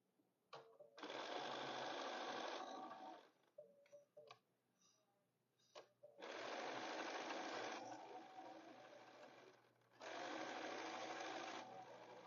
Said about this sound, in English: I'm just going to be careful and sew a little bigger seam.